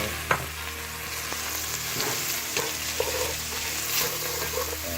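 Ginger, chopped onion and Thai chili peppers fry in a pan for a chicken coconut soup, a close, steady sizzle with a low hum beneath and a handful of sharp utensil taps and scrapes.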